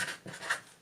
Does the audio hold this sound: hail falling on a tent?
no